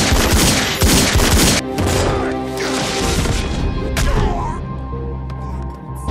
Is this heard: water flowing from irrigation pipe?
no